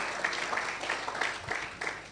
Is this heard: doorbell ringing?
no